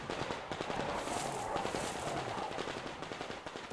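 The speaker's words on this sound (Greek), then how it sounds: "Ακόμα πυροβολισμούς." Sustained gunfire from the video game Metro Exodus: dense, rapid, overlapping shots form a loud, continuous crackling barrage for the whole stretch, with no voices over it.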